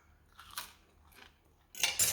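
A slice of light, crispy batter pudding from toad in the hole is bitten and chewed, heard as a few close, sharp crunches separated by quiet pauses.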